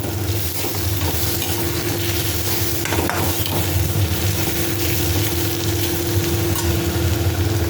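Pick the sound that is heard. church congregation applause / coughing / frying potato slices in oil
frying potato slices in oil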